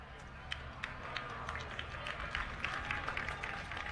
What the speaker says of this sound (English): His fans are applauding.